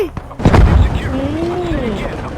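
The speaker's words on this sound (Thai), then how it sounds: "โอ้ระเบิดครับโอ้โอ้โอ้กระสุนระเบิดต่อเนื่อง" Heavy booms and thuds of exploding shells in the video game Squad burst out over a rumbling game soundscape, with a whistling tone sweeping past and an excited voice shouting over it.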